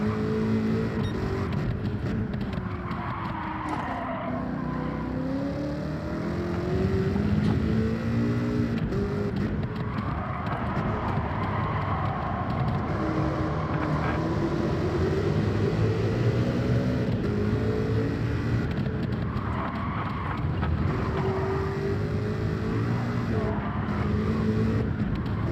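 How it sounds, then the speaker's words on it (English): Chevrolet Camaro engine in Gran Turismo 7 during a daily race at Blue Moon Bay, a steady droning engine note rising and falling through gear changes, with other car noise around it and no talking. "I need a Camaro that sounds like this someday."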